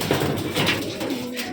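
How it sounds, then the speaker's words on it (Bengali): Rajshahi Giribaz pigeons coo and flutter close by as they are released, a short burst of soft bird sounds with no talking. "কবুতরগণ ছেড়ে দেবো"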